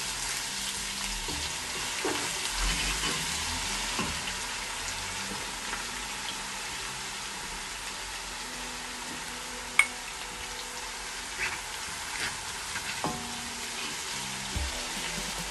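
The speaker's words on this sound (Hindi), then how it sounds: "तो इसमें आप डालेंगे अदरक और लहसुन" Ginger and garlic sizzle and fry with softened onions for a Lahori mutton karahi, a steady close crackle with a few sharp pops throughout.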